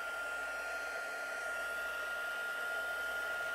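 A hair dryer blows steadily on a paper craft card, a constant whirring hiss with a fixed whine, faint and unbroken throughout.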